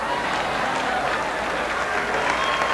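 Congregation clapping and applauding together at a church service, a dense, steady wash of many hands filling the space throughout, with faint voices mixed in.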